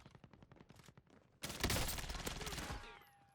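A MAC10 submachine gun fires in Warzone: a rapid burst of loud, dense automatic gunfire begins partway through after a quick series of sharp clicks and taps, then tails off with ringing echo.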